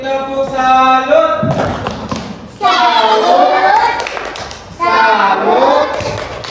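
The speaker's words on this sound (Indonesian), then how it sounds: "Kita beri tepuk salut." A group gives a rhythmic salute clap in a classroom lesson, sharp claps and thuds in bursts followed by children's voices chanting over them.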